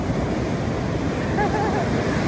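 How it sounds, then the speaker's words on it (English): Ocean waves break on a beach on the Spanish Camino coast near Zarautz, a steady, close wash of surf mixed with wind buffeting the microphone, no talk. "So the waves can be pretty strong actually"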